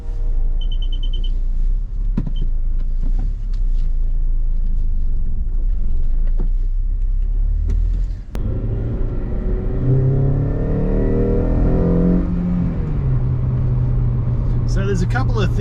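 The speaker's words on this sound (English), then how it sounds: "we've got the open pod filter, air filter. So it's going to be quite loud" A Honda Accord CL9 with an open pod air filter accelerates, its engine holding a steady, loud drone that climbs in pitch as it pulls, with some speech mixed in.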